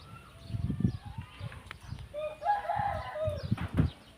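In a rural Thai village, chickens cluck and a rooster's crowing rises in the middle, with wings flapping briefly among scattered low bird sounds, fairly faint and close by.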